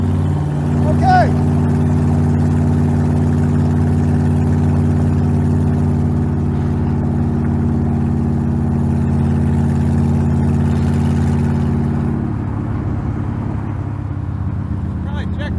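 Engine drone from inside a vehicle cruising on the highway, a steady low hum with strong harmonics running continuously at close range, shifting slightly near the end.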